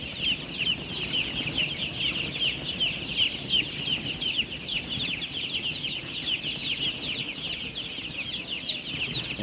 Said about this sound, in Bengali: কালার বার্ড মুরগির খামার